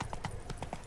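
Horse hooves clip-clop in The Witcher 3, a quick run of about six light, even hoofbeats, brief and close.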